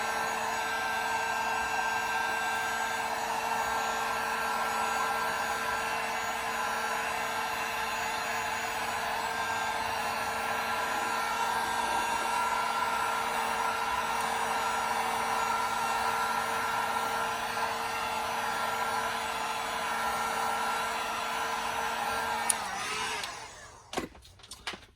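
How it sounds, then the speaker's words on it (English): A Harbor Freight heat gun blows on a plastic toy figure with a steady, loud, airy whine and fan hum. It runs continuously for a long stretch, then cuts off with a few clunks at the end. "I get the heat guns from Harbor Freight"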